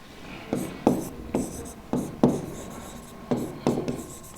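Chalk or marker strokes on a classroom board during an English grammar lesson, a series of short scraping taps in bursts, close and fairly clear with no talk over them.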